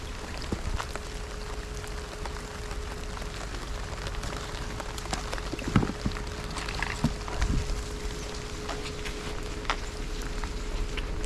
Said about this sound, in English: that rain doesn't feel great